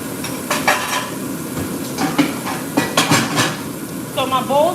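Kitchen clatter of pots, pans and utensils as chopped onions go into a pan during home meal prep, with scraping, clinks and a faint sizzle toward the end, no talking.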